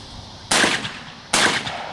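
Two loud, sharp 12-gauge shotgun blasts during a trap shooting shoot-off at a zone championship in Little Rock, Arkansas, each a crisp crack with a short decaying tail, spaced under a second apart, nearby.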